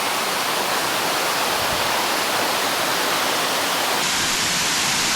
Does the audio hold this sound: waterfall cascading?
yes